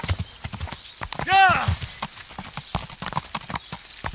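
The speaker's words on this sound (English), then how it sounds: "I'll just quickly bring in the horse and then travel to where Sir Radzig is" Horse hooves clip-clop in an irregular walking rhythm inside the video game Kingdom Come Deliverance, with one clear rising-and-falling whinny early on; a voice talks over it throughout.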